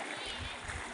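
Water splashes and flows in the Lipit River, a brief, loud, close rush of churning water with a voice faintly present beneath it.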